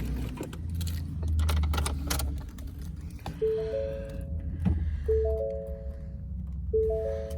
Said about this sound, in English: Keys are swinging.